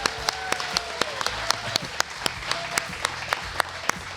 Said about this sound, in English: give yourselves a round of applause for being smart enough to come here